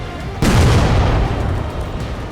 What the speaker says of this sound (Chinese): 炸弹爆炸了